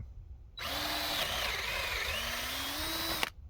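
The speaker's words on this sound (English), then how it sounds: "So then the wood shavings have a way to get out of the drill bit." A power drill bores a hole into wood for a fence brace. It starts sharply, whines steadily at high speed for about three seconds, then stops abruptly.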